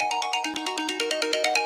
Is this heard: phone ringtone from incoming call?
yes